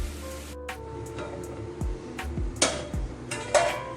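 Moringa leaf vegetable is stirred in a pan, a spatula scraping and clinking against the metal in several separate strokes over a faint background hiss, close by with no talking.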